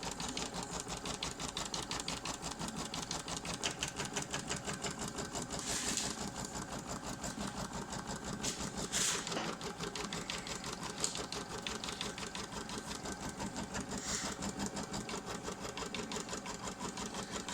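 A sewing machine threaded with lavender thread stitches a boxy bag, running in a fast, steady mechanical rhythm with brief changes in pace, close and continuous.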